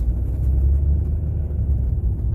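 A school bus approaches on a road in stormy weather, heard as a steady low engine rumble that stays near and fairly loud throughout, with no voices.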